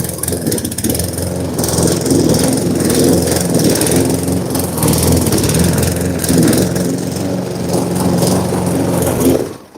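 A lawn mower engine drones steadily and loudly without a break while cutting grass ahead of scarifying a country lawn.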